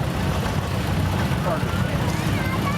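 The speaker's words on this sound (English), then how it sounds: "that's a Ford tractor." A Ford tractor rolling in the Mercer County Antique Power Association 2023 tractor show parade gives a steady, loud low engine rumble, with no distinct beats and faint voices in the background.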